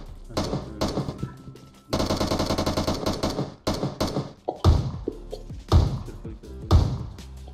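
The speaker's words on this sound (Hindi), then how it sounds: "कहीं तो गोली चली है।" Gunfire in the mobile battle-royale game PUBG Mobile: close, loud bursts of rapid automatic shots, then several single heavy shots spaced apart near the end.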